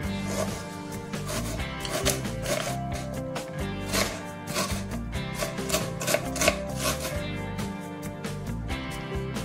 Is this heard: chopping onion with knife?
yes